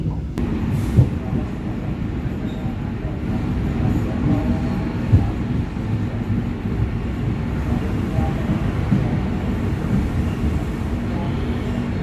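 A Baturaden Express passenger train rumbles steadily nearby as it rolls into Cirebon Kejaksaan station in Indonesia, a low continuous roar with faint clanks and a muffled voice underneath.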